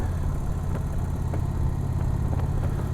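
An Indian Challenger Limited motorcycle ridden slowly, its engine giving a steady low rumble with an even throb, constant and unbroken, with faint ticks riding over it.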